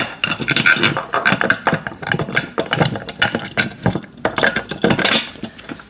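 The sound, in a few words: tightening washer and nut on a pec deck machine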